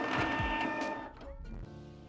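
Canon Pixma MX495 inkjet printer running a nozzle check, a short burst of whirring and mechanical clatter that tapers into quieter motor hum, heard close up with no talk.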